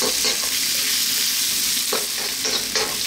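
Hard vegetables stir frying over very high heat, a loud, steady sizzle with the scrape and toss of food being kept moving in the pan, no voices.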